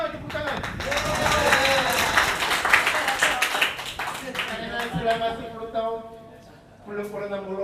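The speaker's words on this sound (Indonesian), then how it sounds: "Tepuk tangan, tepuk tangan." Clapping from an audience at a meeting of prospective Korean ship crew, a burst of hands clapping under ongoing speech and background voices, fading out as talk continues.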